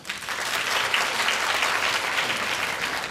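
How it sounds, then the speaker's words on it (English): Workshop audience applauding at a leadership conference in Hong Kong, a steady, dense wash of clapping from many hands that holds evenly loud throughout, with no voices over it. "Give her a round of applause"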